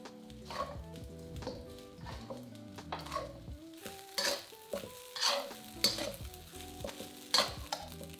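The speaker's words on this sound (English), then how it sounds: "Then we stir those scrambled eggs into the rice." Scrambled eggs stirred into minced beef fried rice in a wok, with a spatula scraping and clattering in bursts that grow busier toward the end, over steady background music and light sizzling.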